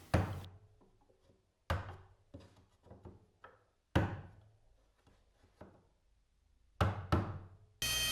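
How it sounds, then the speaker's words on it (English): Chisel chopping to square up a routed hole in wood, sharp isolated knocks in irregular clusters with quiet gaps between, close and clear. "after routing I squared up the hole with a chisel"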